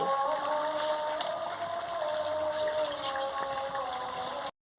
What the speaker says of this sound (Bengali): কেমন সুন্দর ঘর ঘর করে ফুটছে